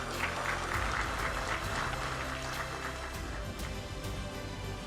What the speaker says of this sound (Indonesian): Oke, tepuk tangan untuk para kantah kita.